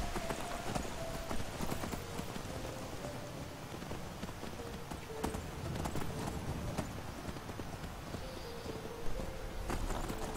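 Horse hooves clip-clop in a steady trotting rhythm in the video game Skyrim, close and moderately loud against a soft outdoor ambience, with no talking.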